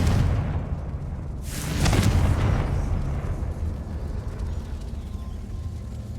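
Confringo fire blast spell in Hogwarts Legacy: a deep, heavy explosive boom swells up near the start, followed by a long rumbling roar that slowly fades.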